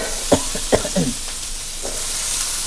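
New Zealand mussels and eggplant stir-fry in a hot pan, a steady sizzle with a few sharp scraping stirs near the start, then an even hiss.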